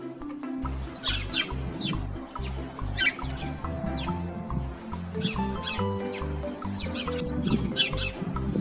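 Bright, rapid chirps of house sparrows and tree sparrows scatter over background music, a busy chorus of small birds tweeting throughout.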